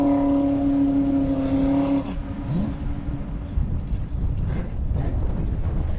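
An LS-swapped jet boat drives past in a canyon, its engine a loud steady drone with a rising tone that fades into rumbling echo among heavy wind buffeting on the microphone.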